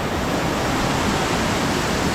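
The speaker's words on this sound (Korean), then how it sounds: "자 여기가 다딴나 폭포입니다 목포 폭포인데 한 20m 어 물살이 갓세네" Datanla waterfall in Dalat, about 20 m high with a strong flow, giving a steady, loud, dense roar of rushing water with no breaks.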